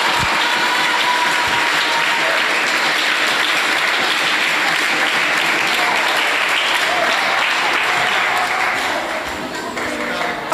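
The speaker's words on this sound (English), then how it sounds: "Can we give him a round of applause?" Sustained loud applause from a Red Cross summer camp opening audience, a dense wash of many hands clapping continuously for about ten seconds before easing slightly at the end.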